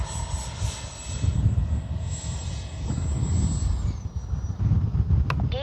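Freewing F-22 Raptor RC jet with an 80mm electric ducted fan flies over a field, its high, steady whine sliding downward as it passes, over constant low wind rumble.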